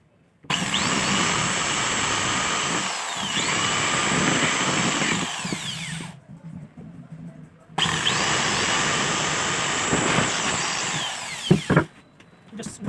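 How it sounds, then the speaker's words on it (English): A power drill whirs steadily at close range in two long bursts separated by a brief pause, drilling holes in a wooden block, with no talking. "Just drill the holes for these two sleeves."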